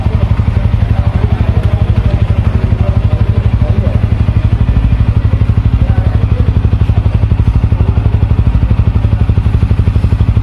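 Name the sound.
Bajaj Pulsar N160 motorcycle engine idling and exhaust note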